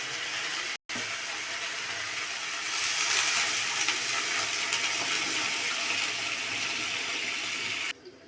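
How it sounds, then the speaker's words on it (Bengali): Water pours steadily into a pan of soybean and egg curry, a continuous rushing splash lasting several seconds before cutting off abruptly. "ফ্রাই করা ডিম ছাড়ার আগে এর উপরে দিয়ে দেব জল।"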